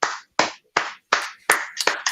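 Applause for a student during a class, heard as six or seven sharp, separate claps in a fairly even rhythm, close and loud, with short silent gaps between them.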